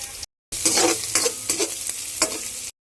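Garlic sizzles in a hot pan while being sautéed for ginataang tulingan, a steady close frying hiss with stirring scrapes after a brief silent gap at the start.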